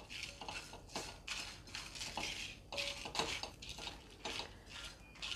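Whole spices, including cloves, peppercorns, two bay leaves and three dried chillies, dry-roasted in a pan over a medium flame, heard as repeated close, light clinks and scrapes of a utensil stirring against metal.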